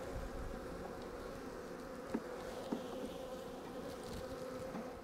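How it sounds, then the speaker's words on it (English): Honey bees buzz steadily inside an opened hive box, a dense, continuous close-up hum with a couple of brief faint knocks and no talking. "They've got a good number of bees in here."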